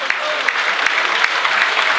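Crowd applauding a team after a women's final, a dense, steady burst of clapping with no break throughout.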